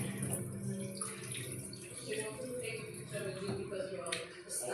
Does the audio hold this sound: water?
yes